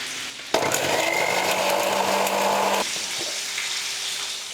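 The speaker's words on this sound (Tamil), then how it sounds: "இப்போ இதை அடிச்சிடலாம் மிக்சியில் வச்சு அரைக்கலாம்" A mixer grinder whirs for about two seconds, blending oil into mayonnaise, starting abruptly with a loud grinding roar and cutting off, followed by quieter handling noise.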